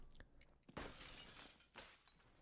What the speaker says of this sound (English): The glass on this map, it just like it breaks for no reason.